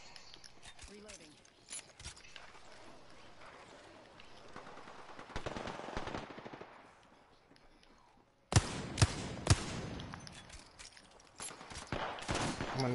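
Apex Legends gunfire cracks out in rapid, dense bursts, building through the first half before a louder volley erupts near the end, mixed with other in-game sounds and voices.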